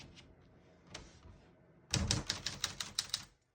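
A 1953 Smith-Corona ultra-portable manual typewriter gives a few soft, scattered clicks, then a quick, loud run of sharp keystrokes and carriage clacks before falling silent.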